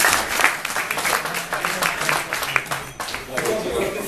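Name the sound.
audience applause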